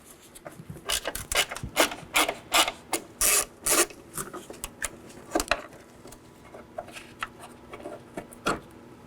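Close ratcheting and metallic rubbing as a 10mm bolt is worked loose from the inner fender liner area of a 2018-2024 Chevrolet Equinox, in bursts of quick clicks with short pauses between.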